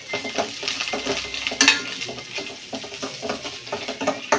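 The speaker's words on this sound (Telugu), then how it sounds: "2 పచ్చిమిర్చి, కొంచెం అల్లం, మిగిలిన కొత్తిమీర వేసుకొని ఫ్రై చేయాలి." Green chillies, onions, ginger and coriander fry in a pan for semiya upma, a steady sizzle broken by the scrape and clink of a stirring spoon against the pan throughout.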